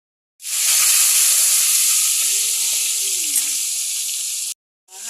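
Cooking oil in a pan gives a loud, steady sizzling hiss that starts abruptly, holds for about four seconds, breaks off briefly and resumes, with no speech.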